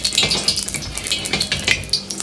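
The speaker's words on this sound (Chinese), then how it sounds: "先把锅像这样润一下" Scallion oil being swirled around a smoking-hot wok to grease it before scrambling eggs, with rapid metallic scraping and clinks of the pan and spatula in an uneven rhythm, up close and alone.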